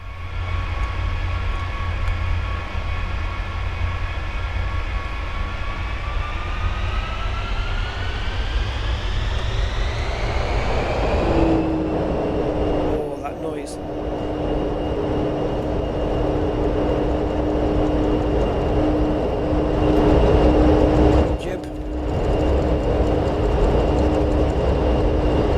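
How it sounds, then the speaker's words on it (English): An aircraft engine in Microsoft Flight Simulator spooling up on the runway: a loud, steady whine climbs in pitch, then settles into a sustained roaring drone with a couple of brief dips. "I'll try not to melt the walls when I throttle up here"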